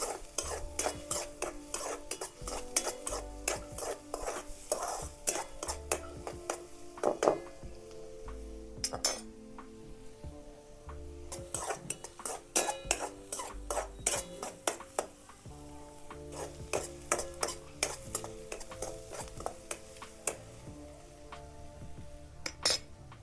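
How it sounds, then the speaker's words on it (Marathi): Onion and garlic sautéing in a pan, mostly rapid rhythmic metal spoon scraping and clinking against the pan with a faint sizzle underneath, close and without talk. "कांदा आणि लसूण परतून घेतले"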